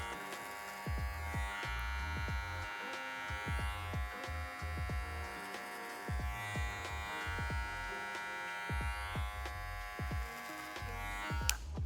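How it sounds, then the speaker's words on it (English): An electric hair clipper buzzes steadily while cutting hair over a comb during a low taper haircut, with a soft continuous hum and repeated short snipping strokes, close and fairly quiet. "And then clipper over comb the length that's left."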